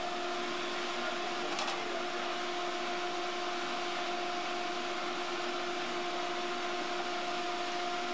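A skate sharpening wheel hums steadily while grinding an ice hockey skate blade, a continuous mechanical whine with a brief brighter scrape early on.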